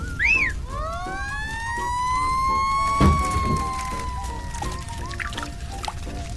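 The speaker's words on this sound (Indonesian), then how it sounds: "Truk pemadam." A fire truck siren wails nearby, its tone sweeping up and holding in long rising and falling cycles, with a dull thump partway through.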